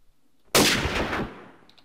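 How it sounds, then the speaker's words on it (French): A single loud, close burst of gunfire inside a bunker in a Minecraft roleplay server, cutting in sharply after near-silence and trailing off over about a second. "Ça tire dessus, dans le bunker."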